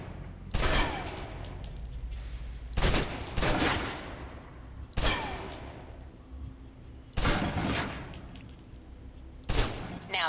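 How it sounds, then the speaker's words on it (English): Submachine gun bursts in the video game Alpha Protocol, five loud sustained volleys of rapid fire separated by short pauses during gun training on a range. "let's move on to the submachine gun"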